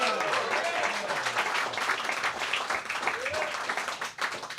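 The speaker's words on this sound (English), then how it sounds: "Let's give them another round of applause." Applause for a folk duo at a folk music concert: clapping with audible whoops and voices blended in, uneven and tapering toward the end.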